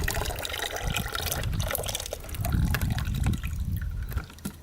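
Green coolant drains out of a cheap, neglected dirt bike in a continuous liquid gush and trickle, with a few sharp drips and splashes throughout.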